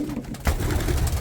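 Racing pigeons cooing inside a tall loft, a soft low throaty murmur that keeps going steadily throughout and grows a little fuller partway through.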